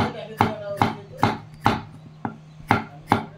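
Capsicum being chopped into thick pieces for chowmein on a board, a steady series of about eight sharp knife chops, close and clear with no talk.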